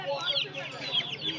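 Chickens cluck and squawk in a busy cluster at the Uluberia hen market, repeated close calls overlapping one another, with a voice speaking nearby.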